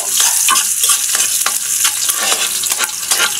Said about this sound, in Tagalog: we are going to saute the garlic